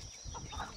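A rooster in a farmyard gives a short, close cluck or two, brief and alone with no talk.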